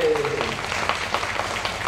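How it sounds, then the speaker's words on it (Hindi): An audience at a religious discourse claps together in a steady, continuous patter, with a voice briefly audible at the start over the applause. "अपने सौभाग्य पे तालियां बजाओ जरा ढंग से"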